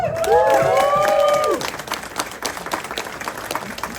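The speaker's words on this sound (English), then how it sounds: "So a round of applause there." A crowd claps and cheers loudly, the applause swelling at first and then settling into scattered clapping with some whistles and calls.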